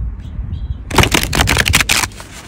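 A large tarot card deck is riffle-shuffled in a quick, crisp flurry of flicking, close and loud, preceded by a moment of near quiet.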